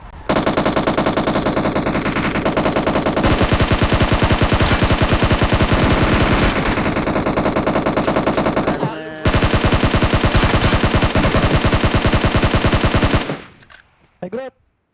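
Sustained automatic gunfire from the mobile battle-royale game PUBG Mobile, loud and nearly continuous for about thirteen seconds with one brief pause, then ending in a few scattered shots; faint voices sit underneath.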